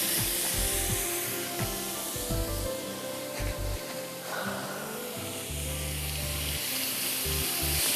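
Chicken with garlic and its spice marinade fries in hot oil for a shawarma rice platter, giving a steady, close sizzle that runs throughout over low, blocky background tones.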